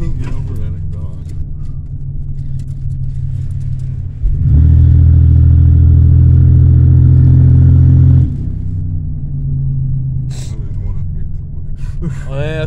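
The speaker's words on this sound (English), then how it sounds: "You can't get over that exhaust." A 1992 Buick LeSabre being driven with a loud exhaust, a deep, steady rumbling drone that surges much louder for a few seconds mid-clip, with people talking inside the car before and after.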